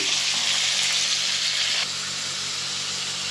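A ground paste of ginger, garlic, cumin and onion goes into a hot pan with meat, raising a steady, fairly loud sizzle that eases slightly partway through, with no one speaking.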